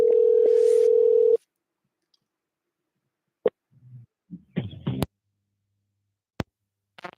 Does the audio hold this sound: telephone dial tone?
yes